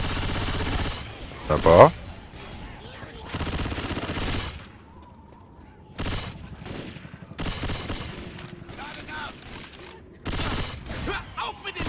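Bursts of automatic M16 rifle fire in the shooter game Left 4 Dead 2, loud rattling volleys that come in several separate clusters with quieter gaps between them, while someone speaks briefly.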